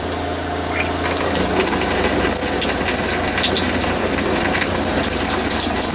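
Pink camper antifreeze gushes from a tap into a bathtub, a loud, steady rushing pour that starts abruptly about a second in and runs on without a break.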